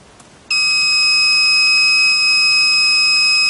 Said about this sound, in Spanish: se genere una alarma y active un zumbador cuando los niveles de gas metano superen un límite definido